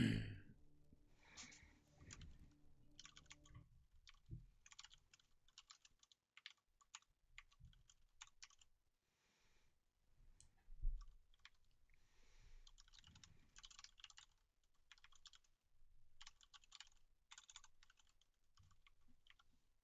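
Faint computer keyboard typing during an online match comes in quick bursts of light clicks separated by short pauses, close and quiet against a near-silent background.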